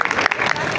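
Short burst of applause, a dense crackle of clapping that stays loud and steady throughout with no voices standing out.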